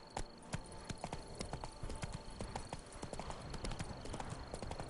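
Horse hooves clip-clop in a steady, fast gallop while riding in The Witcher 3 video game, close and continuous for the whole stretch.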